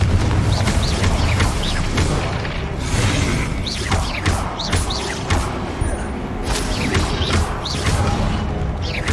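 Incendio and Confringo spell blasts in Hogwarts Legacy, a dense, continuous roar of booms, whooshes and crashing impacts during combat, loud and close throughout with no clear pauses.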